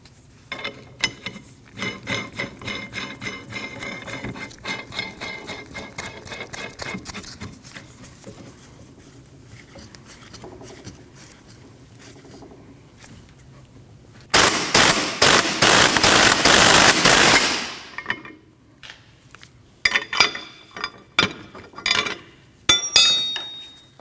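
A hub and bearing removal tool is turned to press the rear wheel bearing out of a 2003-2008 Subaru Forester hub, heard as long runs of close ratcheting clicks, then a loud grinding burst and scattered sharp clinks.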